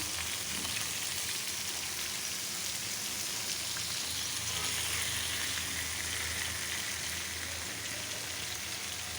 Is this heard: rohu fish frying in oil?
yes